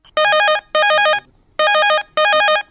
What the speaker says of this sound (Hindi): तो शुरू करन आज के हमर संगी के पहला फोन कॉल ले।